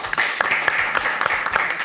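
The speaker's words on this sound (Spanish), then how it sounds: "Vamos a darle un aplauso a la señorita Pamela Galdós." A studio audience claps and applauds for a mixed martial arts champion guest on a Spanish-language TV show, a dense, lively burst of many hands at moderate distance.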